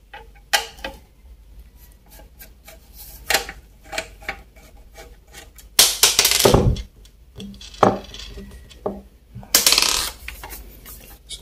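Plastic casing of a Dahua DVR recorder being opened by hand: irregular sharp clicks, snaps and rattles, with a few louder bursts of scraping and clattering against a quiet background.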